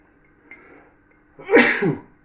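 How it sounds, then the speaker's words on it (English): A single loud, close sneeze from a person in a home kitchen making yeast extract, preceded by a faint intake of breath. "I'm going to sneeze."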